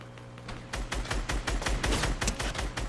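Rapid gunfire in the video game Resident Evil Raccoon City: a dense run of sharp, evenly spaced shots crackling close and moderately loud for a few seconds after a brief quiet start.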